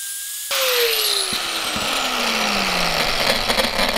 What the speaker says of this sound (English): we're not supposed to wear gloves when you're angle grinding